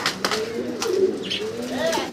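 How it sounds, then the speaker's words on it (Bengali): Racer pigeons cooing close by, a couple of throaty rolling coos rising and falling over light background noise. "আমরা দেখতেছি ভাইয়ের কাছে এখানে আছে রেসার কবুতর"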